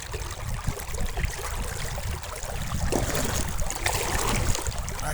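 A clear stream runs steadily through an outdoor spot in Saudi Arabia, a continuous broadband rush and babble of flowing water, close and fairly loud, with no voices.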